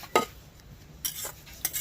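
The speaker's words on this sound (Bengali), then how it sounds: "এই কড়াইতেই কিন্তু মেশাচ্ছি" Cauliflower paratha filling being mixed in a kadai, with a few brief scraping stirs of a spoon against the metal separated by quiet pauses, close and moderately loud.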